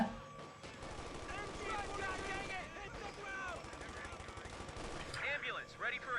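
Rapid machine-gun bursts and scattered rifle shots ring out from the World War II strategy game Company of Heroes 2, the game audio running continuously while someone talks over it.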